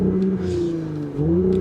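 A 2020 Audi S4 engine drones steadily with a deep sport exhaust note in dynamic mode, its pitch dipping and then climbing again as the revs rise.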